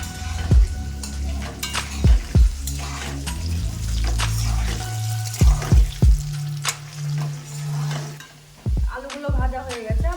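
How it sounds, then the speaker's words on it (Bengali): Potato pieces frying in hot oil in a pan with a little salt, a steady close sizzle broken by several sharp scrapes and clanks of a spatula stirring. "আলুগুলো এবার লাল লাল করে ভেজে আবার তুলে নেব।"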